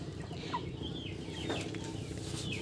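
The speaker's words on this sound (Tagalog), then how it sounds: "Itong mga breeder namin. Ayun. Si Mr. Chicken." Breeder hens clucking in a coop during egg collection, a few soft clucks and calls at close to middle distance over steady background noise.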